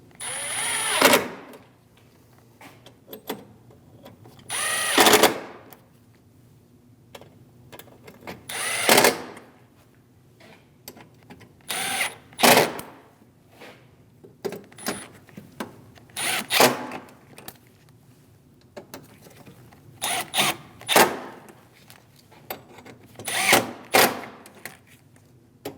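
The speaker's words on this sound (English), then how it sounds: "Go down the line, snugging down all of the bolts." A power tool drives bolts on the AC condenser of a Chevrolet Malibu in short, separate whirring bursts about every few seconds, with quiet handling noises between them.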